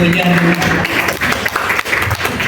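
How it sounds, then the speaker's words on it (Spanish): A church congregation claps and cheers for a sister after her testimony at a sermon, a loud dense applause that starts over a voice and carries on alone. "Un aplauso para nuestra hermana Nubecita"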